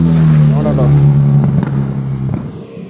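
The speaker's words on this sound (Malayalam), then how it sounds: "ഒരു ബൈക്ക് പോകുന്നേ" A motorbike passes outdoors with a steady droning engine note that swells and then fades, while someone talks over it.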